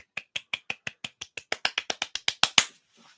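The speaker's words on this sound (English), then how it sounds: "Golf clap." A slow golf clap, about fifteen separate handclaps in a steady, even rhythm that gradually grow louder, ending on one strong clap and a brief faint rustle, with no voices.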